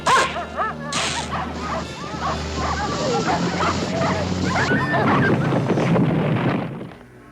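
A husky barks, yips and whimpers excitedly in a G.I. Joe animated episode. The calls are loud and close and continue throughout, mixed with a voice giving orders.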